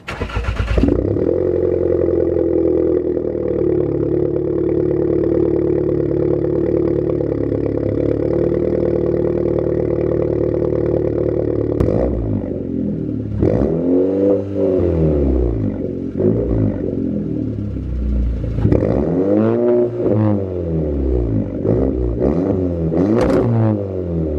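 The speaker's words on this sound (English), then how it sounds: "as you heard there, the car is really loud" A straight-piped VW Polo GTI 6C, exhaust open apart from the catalytic converter, holds a loud, steady high idle for about twelve seconds, then revs in repeated rising and falling blips, close and alone with no talk.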